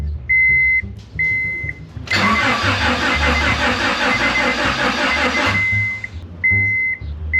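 A Honda Prelude engine with an immobilizer key light on cranks steadily for about three and a half seconds without catching, its rhythmic starter churn loud and close, while a repeating electronic chime beeps before and after.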